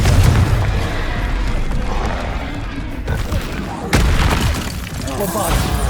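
Confringo explosive fire spell blasting in Hogwarts Legacy, a loud booming rumble with sharp crackling bursts, one sudden crack partway through, then more heavy detonation noise close up.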